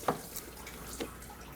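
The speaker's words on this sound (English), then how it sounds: "Coolant will still come out of it." Coolant drips from a disconnected water pump pipe on a 2005-2010 Pontiac G6 engine, two faint separate drops about a second apart over a quiet background.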